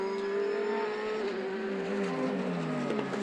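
F3 Cup race cars at Donington circuit, engines droning steadily at a distance as they pass, a continuous high whine with shifting pitch and no talk in the clip.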